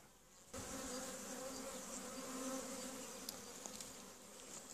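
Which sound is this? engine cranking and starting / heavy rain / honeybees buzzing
honeybees buzzing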